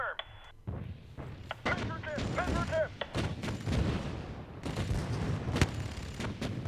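Auto turrets in the game Spore fire repeated sharp shots and thumps in quick succession, moderately loud, under a player's steady talking.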